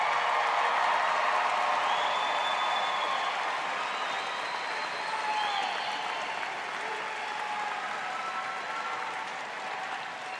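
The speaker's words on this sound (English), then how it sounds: "give a big round of applause to your families and friends" Steady, dense applause at Indiana University's 2018 commencement as graduates stand to honour their families and friends, a broad roar of clapping from a huge crowd that tapers slightly toward the end, with faint cheering.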